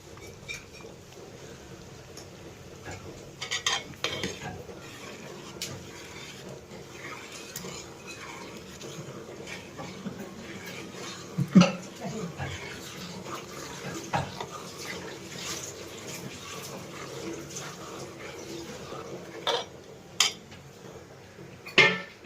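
Boiled yam pieces being stirred into a bubbling spiced coconut paste in a pot, with soft wet stirring, occasional clinks of a spoon against metal and faint simmering underneath.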